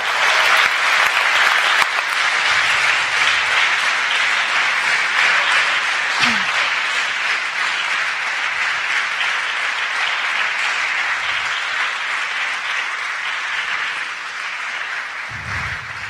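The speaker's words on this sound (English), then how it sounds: "you deserve your great applause" Dense, sustained applause from an audience at a live panel discussion, many hands clapping steadily for about sixteen seconds and fading slightly toward the end.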